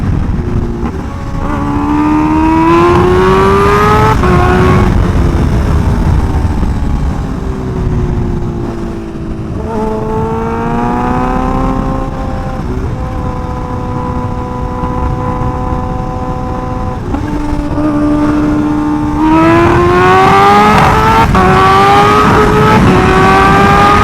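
A Kawasaki Ninja H2R supercharged motorcycle accelerates hard on the road, its loud engine climbing through gears with rising whines, brief shift dips and sustained roaring over wind noise.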